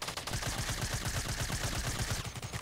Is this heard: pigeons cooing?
no